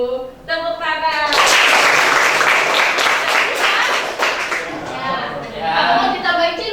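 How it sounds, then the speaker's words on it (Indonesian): A group claps hands during a children's movement song in a class session, a dense burst of clapping in the middle with singing and voices before and after. "Tepuk tangan."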